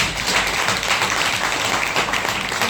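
An audience at a business plan presentation applauds in dense, continuous clapping that holds at an even level throughout without a break.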